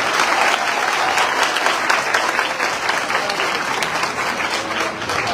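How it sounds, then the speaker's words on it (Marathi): Loud, dense applause from a rally crowd welcoming Manoj Jarange, a continuous roar of many hands clapping steadily throughout. "जोरदार टाळ्या झाल्या पाहिजे"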